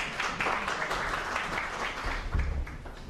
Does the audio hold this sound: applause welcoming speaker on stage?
yes